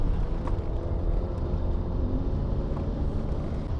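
A V12 BMW E38 750iL at full power, a steady, dense low rumble of engine and road noise that holds evenly from the cabin with no let-up.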